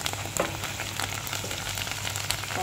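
Onions frying in a hot pan give a steady, close sizzle with crackling pops throughout, continuous and fairly loud, with a low hum underneath and no talk.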